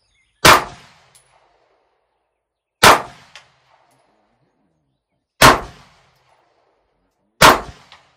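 Four sharp gunshots from a Canik pistol fired at steel targets, spaced a couple of seconds apart, each loud and close with a brief ringing clang of the target afterward.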